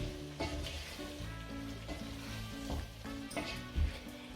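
Vegan curry sauce bubbles and sizzles in a hot pan while being stirred, a dense close frying hiss with soft scraping strokes and a brief louder bump near the end.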